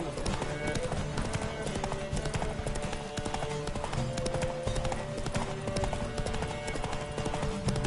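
A horse gallops in The Witcher 3 during a race: rapid, steady hoofbeats run continuously and loud through the whole stretch, mixed with game sounds and voices talking.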